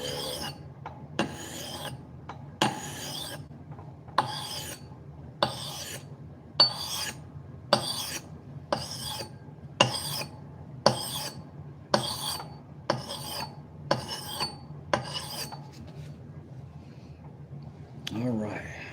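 Wood is hand-sanded with 1000 grit sandpaper in regular back-and-forth rasping strokes, about fifteen evenly spaced rubs, close and clear, before stopping.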